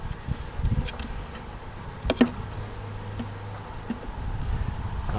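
Honeybees buzzing around an open hive box, a soft low droning hum with a few brief louder passes of individual bees close by, plus faint handling knocks.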